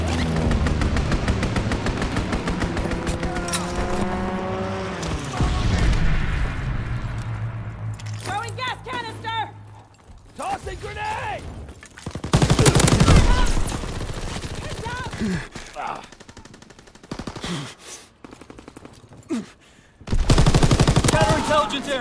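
Bursts of heavy automatic gunfire from a strafing run in the Call of Duty: WWII video game come in loud rattling volleys between quieter stretches, while game voices talk over parts of the action.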